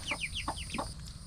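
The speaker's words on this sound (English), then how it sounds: "Oh, the chickens." A few short chicken clucks and chirpy calls in quick succession, fairly close and moderately soft.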